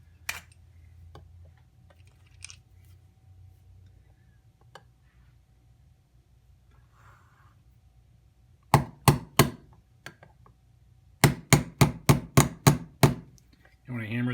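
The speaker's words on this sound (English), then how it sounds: "And then we're going to hammer that in." A hammer drives a roll pin into a Sig Sauer M17 pistol during reassembly: three sharp metallic strikes, a pause, then about six quicker blows in a row, close and crisp against a quiet room.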